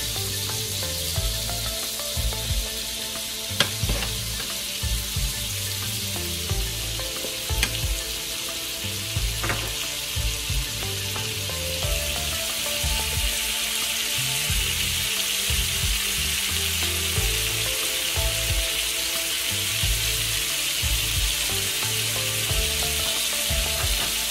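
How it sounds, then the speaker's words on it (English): Precooked shrimp sizzle loudly in seasoning in a hot pan, a constant crackling fry with occasional stirring clatter and scraping, heard alone without talk. "The shrimp is already cooked, so we're really just getting it coated in the seasoning and heating it up."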